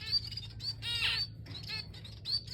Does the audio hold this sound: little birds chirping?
yes